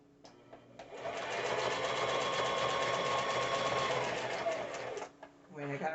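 A Brother BB370 sewing machine mounted on a Grace Mini Frame runs in a continuous whirring stitch for about four seconds, close and clear, starting and stopping abruptly.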